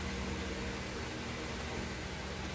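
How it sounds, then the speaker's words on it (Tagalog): An electric fan runs with a steady, even whoosh and a faint motor hum, constant and close. "Matatanggal niya kaya yung ingay ng electric fan."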